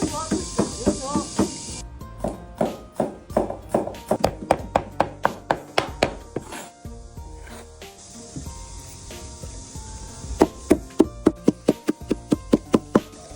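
Home-grown red chili peppers chopped with a cleaver on a board in a rural kitchen: a long run of sharp, steady knocking strokes, loud and close, with brief pauses and a hiss at the start.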